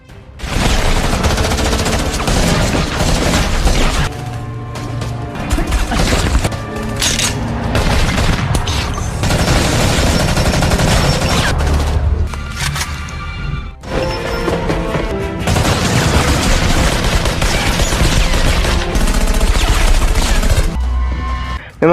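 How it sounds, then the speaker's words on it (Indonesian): Shootout from the action film Triple Threat, with dense gunfire bursts, crashes and booms layered over a loud score, running continuously with brief dips in intensity. "mereka pun langsung saling menembak"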